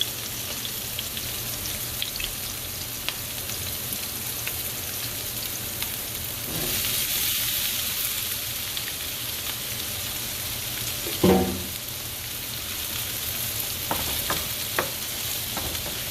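Potatoes fry in a pan with a continuous close sizzle, broken by occasional stirring scrapes and a brief clatter of a utensil; no one speaks.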